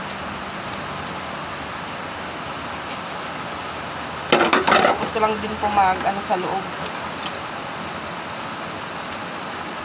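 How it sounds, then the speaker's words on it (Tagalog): Steady heavy rain hisses throughout, loud and constant, while a person speaks briefly in the middle. "lumakas pa po lalo yung ulan"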